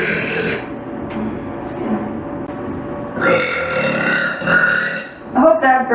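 A woman gamer lets out several loud, drawn-out burps close to the mic, with short gaps between them and a final bubbly one near the end.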